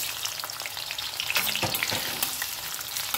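Chopped onions sizzle and fry steadily in a hot pan for chickpea chola bhuna, with occasional stirring scrapes rising briefly above the constant close crackle; no voices.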